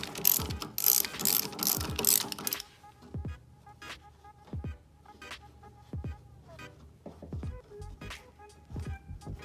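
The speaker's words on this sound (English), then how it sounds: "you can get a 9/16 socket on the end of this bolt. And you can remove it real quick." A ratchet with a 9/16 socket loosens a pulley bolt on a snow thrower, sharp close clicking in irregular bursts after a loud opening stretch of rapid cranking.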